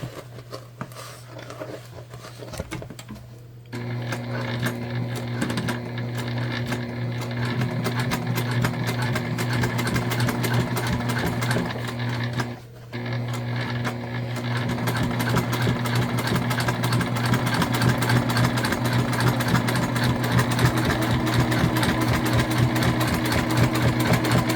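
Sewing machine stitching the side seam of a fabric tote bag, a fast, even mechanical patter with a steady motor hum. It starts after a brief quiet lead-in, pauses briefly midway, then runs continuously and close.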